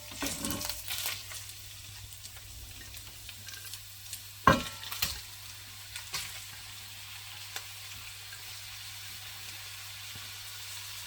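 Minced keema drops into a hot pan and fries with a soft, even sizzle and hiss, punctuated by a sharp clatter and a few stirring knocks before settling into quiet frying.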